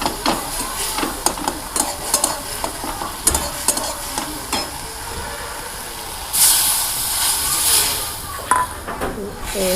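Water poured into a hot pan of turmeric and dried-chili fish curry sets off a loud hiss and sizzle, following scattered stirring and bubbling from the frying spices.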